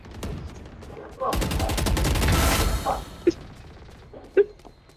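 A loud burst of rapid automatic fire from an Odin machine gun in Valorant rattles for about a second and a half, followed by scattered single impacts, with faint talk around it.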